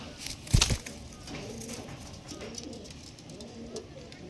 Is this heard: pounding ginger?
no